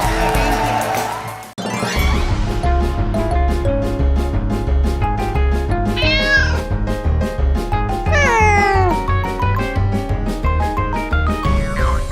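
Several cats meow in a short played clip on a daytime TV show, rising and falling cries heard over steady background music, with a brief burst of noise at the start.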